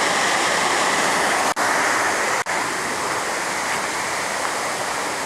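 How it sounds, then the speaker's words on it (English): A small waterfall pours into a canyon, giving a steady, loud, broadband rush that runs unbroken throughout, with no voices. "Nice little waterfall."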